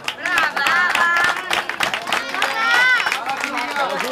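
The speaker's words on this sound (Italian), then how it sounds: "E un altro applauso." A crowd applauds at an award ceremony for a children's running race, steady clapping mixed with cheering and lively chatter, fairly close and continuous.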